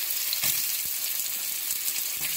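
Granny Smith apples sizzle steadily as they fry in a hot, greasy pan, a close, continuous hiss with soft crackles and no talking.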